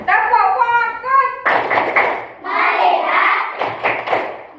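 A class of children performing a rhythmic clapping routine, chanting together in sing-song voices, then breaking into bursts of clapping and hand thumps mixed with more group chanting, loud and close.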